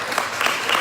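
A short burst of audience applause at a congressional candidates' debate, brief scattered clapping at moderate loudness.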